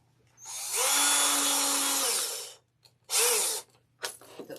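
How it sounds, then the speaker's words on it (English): A handheld power drill bores a hole into a wire wreath form, a loud whirring burst of about two seconds, then a shorter spin and a quick final blip, with no talking. "Bring out the drill."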